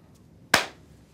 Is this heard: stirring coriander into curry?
no